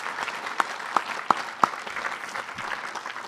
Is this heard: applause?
yes